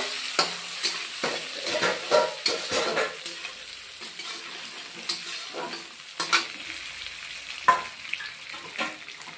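Quartered tomato pieces hit hot oil in a pan for a Bengali mustard egg curry, giving a continuous close sizzle and frying hiss broken by scraping stirs and clinks of a spoon, with no voices.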